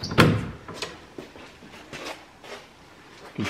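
A wooden Kroehler buffet's door or drawer thumps shut with a close, solid knock, followed by softer wooden clicks and rubs as it is worked open and closed again.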